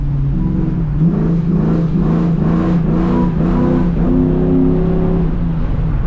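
A 450hp cammed truck with a 4L transmission revs hard during a pull, heard from inside the cab, the engine droning loud and close as it climbs through several stepped rises in pitch with no talk.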